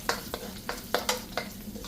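Garlic frying in oil in a pan for tomato rice: a quiet, steady sizzle close by, broken by about six rhythmic scraping strokes of a spoon as it is stirred.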